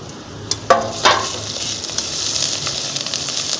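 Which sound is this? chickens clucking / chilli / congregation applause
chilli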